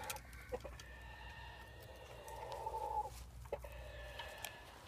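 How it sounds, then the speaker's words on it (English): A chicken clucks outdoors in a quiet yard, a few clear, fairly faint calls with one longer, drawn-out cluck in the middle, against soft background noise and no talk. "Y'all hear that chicken over there?"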